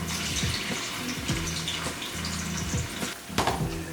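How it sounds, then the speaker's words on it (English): Steady crackling sizzle of meat frying in a hot pan, with a few clinks and scrapes of a utensil, close and continuous. "Get that sizzle going."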